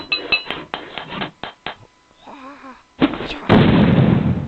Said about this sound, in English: Oh yeah, it definitely has the explosion.